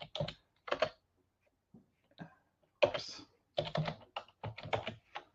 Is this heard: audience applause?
no